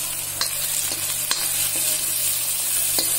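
Onions fry in a pan for dum aloo, a steady close sizzle with a few faint stirring clicks and scrapes, with no talk.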